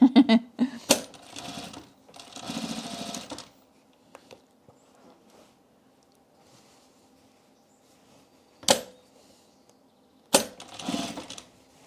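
A sewing machine stitching twill flannel in short runs, brief bursts of rapid mechanical chatter separated by quiet pauses and a few sharp clicks, close and clear, with a voice talking at times.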